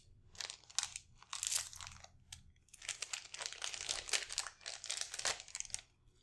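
Foil wrappers from Dragon Ball Super card game booster packs crumpled and crinkled by hand at close range, in bursts of loud crackling with brief pauses, no talking.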